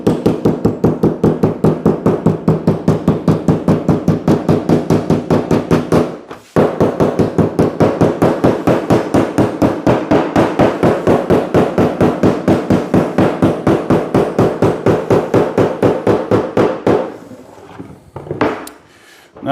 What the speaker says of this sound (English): and then just hammer this flat.